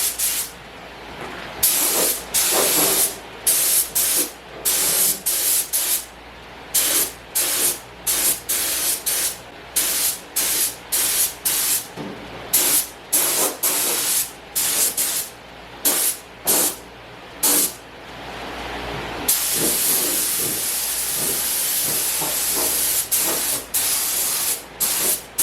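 A spray gun lays epoxy primer onto Mercedes W109/108 fenders in a loud, close hiss of repeated bursts, each a second or two long with short gaps, ending in one longer continuous spray.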